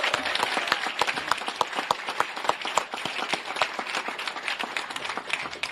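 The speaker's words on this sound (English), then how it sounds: "give them a warm round of applause" A crowd applauds at a Veterans Day ceremony after the colors are presented, with warm, even clapping from many hands that holds steady throughout.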